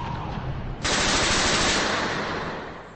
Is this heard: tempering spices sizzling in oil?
no